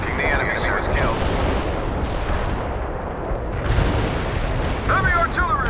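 Heavy artillery barrages and explosions from the real-time strategy game World in Conflict roar continuously, a dense, loud rumble of overlapping booms with brief radio-style voice chatter near the start and end.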